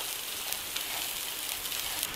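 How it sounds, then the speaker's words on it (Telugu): Tempering seeds fry in hot oil in a pan while stuffed green chili curry is being made, giving a steady, dense sizzle with faint crackles and pops, close and even throughout. "తాలింపు గింజలు వేగాయి."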